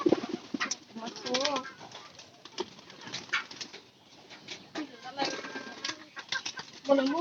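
Pigeons coo in low throaty bursts at close range, mixed with wing flapping and rustling, while people talk over them.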